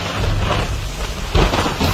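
Heavy rain pours steadily as a loud thunder rumble builds and cracks partway through, a storm effect in a light-and-sound show about a 1973 flood.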